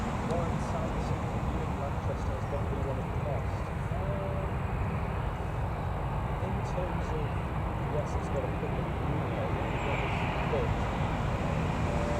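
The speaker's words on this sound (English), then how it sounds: "I love the sound of those engines on the ATRs." ATR turboprop aircraft engines at Newcastle Airport, a steady droning engine roar heard from a distance with airport ambience, while a person talks over it.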